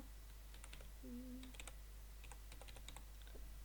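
Typing on a computer keyboard, quick bursts of soft clicking keystrokes close by and quiet, with brief pauses between runs of keys.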